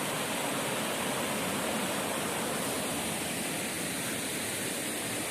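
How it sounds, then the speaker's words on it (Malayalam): A steady, broadband rush of falling water from the 56 Kuthu waterfall at Painavu in Idukki, running at low flow, loud and continuous throughout with no voices. "ഇതാണ് ആ വെള്ളച്ചാട്ടം, 56 വെള്ളച്ചാട്ടം എന്ന് പറഞ്ഞ വെള്ളച്ചാട്ടം ഇതാണ്."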